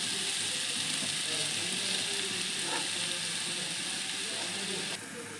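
Vegetable bhaji with coriander leaves frying in a pan, a steady broadband sizzle that holds evenly throughout and drops slightly near the end, with faint stirring clinks and no talk.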